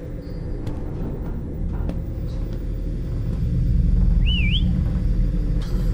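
A person whistles a short rising-and-falling tune in a game set aboard a lost ship, faint and brief over a steady low engine-like rumble, with no talk.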